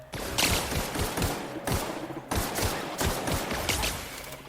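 Rapid pistol gunfire in the video game The Outer Worlds, a loud volley of sharp shots in quick irregular bursts with brief pauses between them, no talking.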